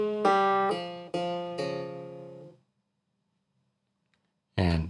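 Plucked krar melody in the ambassal scale: four ringing notes in succession, each decaying, close and clear, then a pause and a fresh strum starting at the very end.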